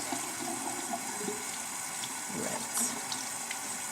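Water runs steadily from a tap during a face rinse after exfoliating, a close continuous splashing rush with small shifts in flow.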